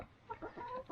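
Young chickens in a coop give a couple of soft, faint clucks and murmurs, brief and quiet at close range.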